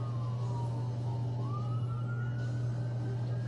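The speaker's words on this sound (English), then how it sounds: "Here comes another ambulance." An ambulance siren near the scene of the Las Vegas shooting, a single rising wail at moderate distance over a steady low hum and crowd noise.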